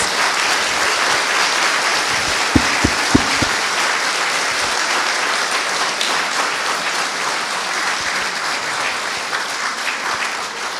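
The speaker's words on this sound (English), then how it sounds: "Let's have a round of applause for our recipients." Sustained audience applause at a veterans' Congressional Gold Medal ceremony for medal recipients, broad and steady throughout, with a few sharper thumps standing out early on before the clapping tapers slightly toward the end.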